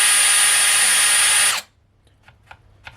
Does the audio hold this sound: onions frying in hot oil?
no